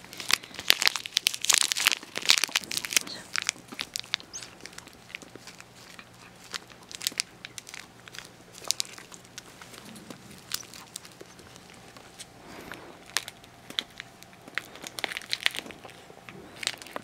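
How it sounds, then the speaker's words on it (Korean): A dog chewing and biting at a crinkly plastic wrapper and paper, with close crunching, crinkling and tearing bursts that are heaviest at the start and then continue in smaller, scattered clicks and rustles. "종이 먹으면 안 돼, 비닐 먹으면 안 돼"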